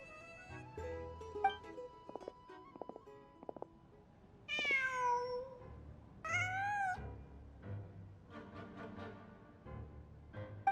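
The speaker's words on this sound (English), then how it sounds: "Just a cat." A cat in a fantasy video game gives two drawn-out meows, clear and close, over soft game music and quiet ambient tones, with no one talking.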